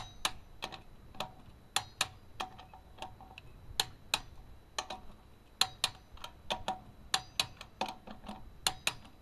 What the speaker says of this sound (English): you can hear the click when it goes off.